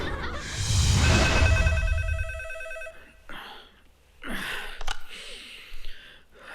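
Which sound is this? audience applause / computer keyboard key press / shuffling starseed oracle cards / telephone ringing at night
telephone ringing at night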